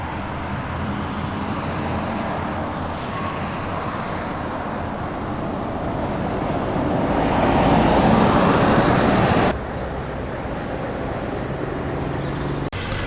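Classic old lorries drive past on the Cheshire Run road event, a continuous rumble of heavy engines and road noise that swells as a vehicle passes close around the middle, then drops back to a steady outdoor roar.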